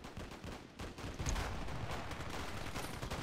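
Sniper gunfire in the video game Black Ops 2, with sharp gunshots over a steady, noisy game background. The shots are moderately loud and sound fairly close.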